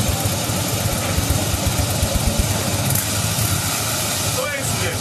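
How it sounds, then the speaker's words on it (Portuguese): A Harley-Davidson Fatboy 1450 with its original stock muffler idles close by in a steady, lumpy mid-pitched rumble, the low thumps pulsing evenly through the whole stretch, with a brief higher sound near the end. "Vou voltar para o original, para o silencioso, para vocês perceberem mais uma vez a diferença."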